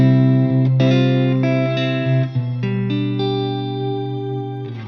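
Sustained guitar chords ring out through a shimmer reverb with the mix backed off, bright octave-up harmonics hanging above each strum; several chord changes follow one another, loud and alone with no voices.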